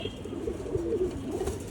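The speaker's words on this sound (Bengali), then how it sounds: "এটা একদম পুরানা লাইনের কবুতর, অনেক পুরানা কবুতর" An old-line pigeon coos softly and briefly, faint and close under a quiet background hiss.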